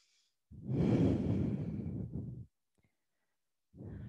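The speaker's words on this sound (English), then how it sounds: "I teach yoga so I can be a pretty loud breather sometimes" Loud exhale from a yoga teacher during a barre fitness class, one long close breath lasting about two seconds, followed by silence and the start of another breath.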